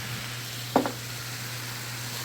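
Garlic, Italian seasoning, smoked paprika, salt and pepper cook in a pan for a bacon cheeseburger casserole, making a soft, constant sizzle with one brief clank of a utensil.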